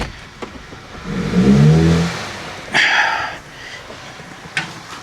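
Audi A5 with a 6-speed gearbox, abandoned and broken, its engine floored and revving hard in a low surging roar that falters as it nearly stalls, followed by a couple of sharp knocks and clunks.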